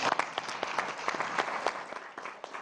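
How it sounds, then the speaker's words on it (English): Dense, steady applause from a city council meeting audience honoring housing staff for a 2019 National Award of Merit, with many hands clapping close and continuously throughout. "Let's give them a round of applause"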